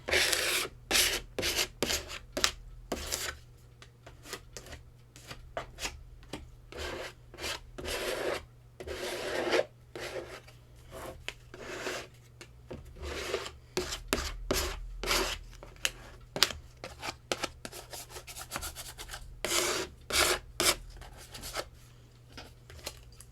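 Oil paint is scraped and pulled across a canvas in repeated rough strokes, each a short dry rasping rub, coming in irregular bursts close up with quiet gaps between and no talk.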